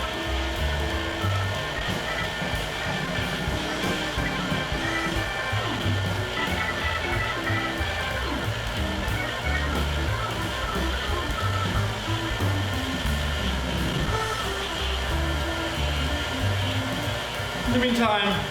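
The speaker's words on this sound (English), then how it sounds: "And give this a good mix of 3 minutes. Right here in the machine." A bread machine kneads rye bread dough from a mix, a steady close whirring motor hum with a churning rumble that runs continuously without a break.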